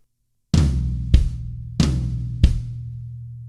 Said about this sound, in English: We're going to hit the floor tom